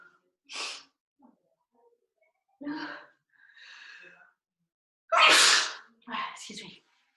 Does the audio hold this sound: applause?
no